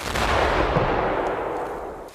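A 400-gram TNT charge detonates beside a ballistic face mask during a protection test, giving a loud, rough blast whose roar rolls on and slowly fades over about two seconds, with no voices.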